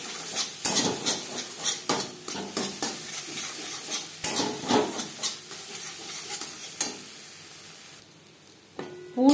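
A spatula scrapes and stirs potol stuffing seasoned with roasted cumin powder as it fries in a kadai wok. Repeated rhythmic strokes clack over a soft sizzle, then stop near the end, followed by a final clatter.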